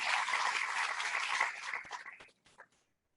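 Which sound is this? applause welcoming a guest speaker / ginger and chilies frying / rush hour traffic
applause welcoming a guest speaker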